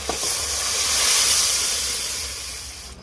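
Dal is poured into a hot pan of tomato, ginger paste and cumin spice mixture, giving a loud, close hissing rush of steam that swells and then slowly fades, with no voices.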